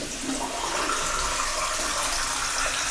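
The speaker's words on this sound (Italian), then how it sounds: "Io vorrei prima sciacquare un secondo il viso con l'acqua calda." Warm water runs from a bathroom tap while a face is rinsed before a shave, a loud, steady rushing hiss of flowing and splashing water held continuously for a few seconds, with no voices.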